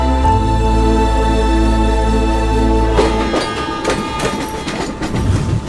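A train at Vijayawada railway station gives a loud, steady droning hum for a few seconds, then shifts into a rattling, uneven clatter of wheels and carriages close by.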